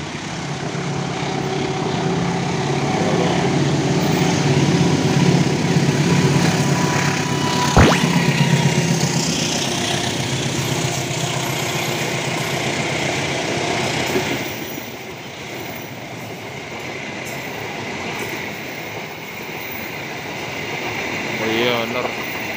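A Sawung Galih passenger train rumbles past steadily and loudly for a long stretch, with a sharp metallic clank partway through, then fades to a lower hum.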